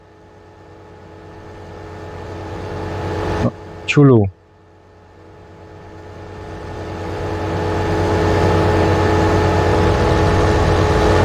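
The engine of a JCB Fastrac transport tractor in Farming Simulator 15 hums steadily, briefly cuts out, then builds to a louder drone while someone speaks over it.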